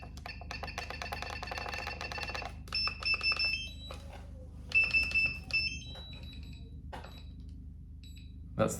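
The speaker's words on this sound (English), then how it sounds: "That's the sound that you don't want to hear when you've gone out of range." A DJI Mavic 3 Pro drone controller sounds its out-of-range warning alarm, a loud repeating electronic beeping in bursts with short gaps, close and clear over a low background hum.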